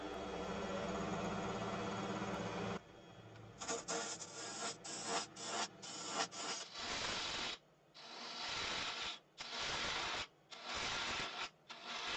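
A wood lathe spins a wooden pear as a tool trims its tip thin, giving a loud steady whir and then a stretch of rasping, scraping cuts broken by short pauses, close by with no talk.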